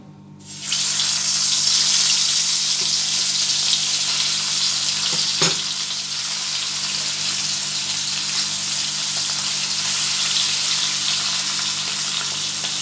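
Mourala fish hit hot mustard oil in a wok and set off a loud, steady sizzle that starts suddenly and keeps going, with one brief clunk partway through.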